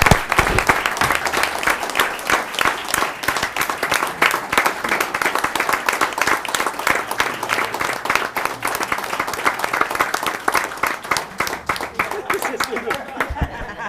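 Sustained applause from an audience honoring a police officer at a City of Bonita Springs gathering, dense and steady clapping that carries on loudly for the whole stretch with a few scattered voices under it.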